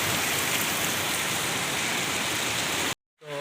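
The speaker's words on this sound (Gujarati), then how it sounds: "આજે વરસાદ પડ્યો એટલે કંઈ ઘટે જ નહીં, ગાંડો વરસાદ પડ્યો" Heavy rain pours down in a thick, steady hiss that stays close and loud, then cuts off abruptly near the end, leaving only a faint trace of sound.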